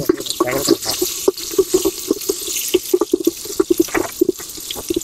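Water drains and splashes from a cooking pot of kunda chicken outdoors, a rapid irregular series of gurgling pours and drips, close and fairly loud.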